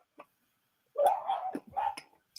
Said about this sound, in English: I wonder what they're barking at.